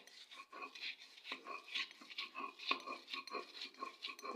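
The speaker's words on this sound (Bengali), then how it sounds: "এখন এই ধনিয়া পাতাগুলো বেটে নিব।" Fresh coriander leaves are ground by hand for a small-shrimp bhorta, making a steady, fairly quiet rhythm of scraping and rubbing strokes, roughly two or three per second, with no talk.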